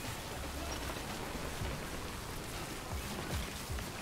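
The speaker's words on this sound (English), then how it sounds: "The rain is what we gotta worry about." Steady, dense rain hisses down in Death Stranding, with scattered drops pattering on surfaces; a constant wash of sound with no speech over it.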